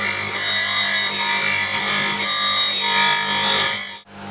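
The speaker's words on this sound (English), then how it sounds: "So I'll just use that angle and just sharpen it." A wood-turning skew chisel being sharpened on a powered grinder, giving a steady, loud abrasive hiss and hum close by that runs almost unbroken before cutting off abruptly near the end.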